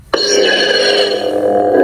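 A Vitaly 5 lightsaber with a Proffie board powers on with a sudden loud ignition burst that settles into a dense, buzzing hum, close and sustained with no talking.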